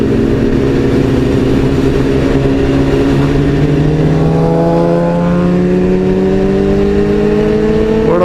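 A Kawasaki ZX12R superbike engine revs loud and close in a desert setting, the pitch climbing steadily as it accelerates, with other bike engines droning alongside.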